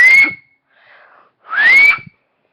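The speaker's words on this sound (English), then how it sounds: "I can whistle." A person whistles two rising, close, loud notes separated by a softer breathy sound in between.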